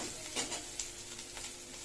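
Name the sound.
frying bitter gourd in oil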